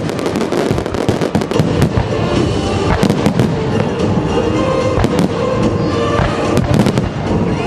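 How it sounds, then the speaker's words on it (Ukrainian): A powerful fireworks display at a fountain opening crackles and bangs in rapid, dense bursts, loud and close, with sharp reports piling over one another throughout and a faint crowd murmur beneath. "А доповнив свято потужний феєрверк."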